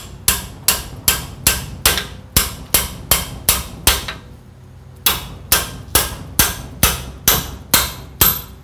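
A sledgehammer pounds a stuck rear brake rotor on a Chevy dually pickup in loud, evenly spaced metallic blows, ten in a row, a brief pause, then eight more.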